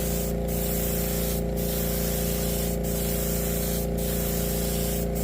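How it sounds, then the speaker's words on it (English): Silver paint sprayed in coats onto a Tamiya 1/14 Ford Aeromax model truck body: a constant close hiss of the spray can over a steady mechanical hum, with brief rhythmic dips roughly every second. "I want to get a few coats of the silver put on."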